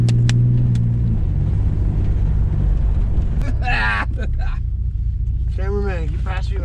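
Ford Explorer engine running while driving, a steady low rumble and drone that continues throughout the clip, with people talking over it in the cab.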